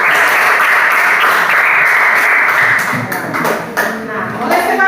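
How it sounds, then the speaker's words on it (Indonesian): A classroom of students applauds a presenting group, a loud, dense, steady clatter of many hands that runs throughout and thins slightly toward the end, with faint voices mixed in. "Tepuk tangan dulu."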